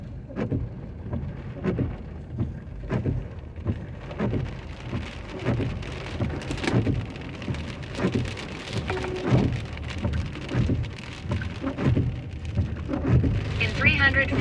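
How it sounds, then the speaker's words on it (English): Steady rain drums on a car driving through Troy, Alabama during food delivery rounds. Dense, constant patter and splashes sit over a low road and engine rumble throughout. "it's raining outside too"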